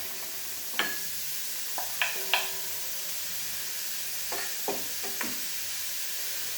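Pumpkin sautéing in a pot for Jamaican pumpkin rice, a steady soft sizzle broken by several sharp spoon scrapes and taps against the pot, close and alone without talk.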